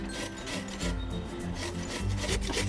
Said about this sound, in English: So I'm grating this green papaya.